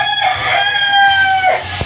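Roosters crowing at Tilaok Game Farm, one long drawn-out crow close by, with clucking from other fowl around it.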